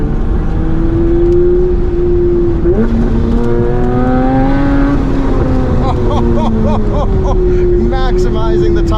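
A 500hp Classic Mini's engine snarls as the car rips through corners on a road, heard loud from on board. Revs climb and drop with gear changes, and voices come through at times.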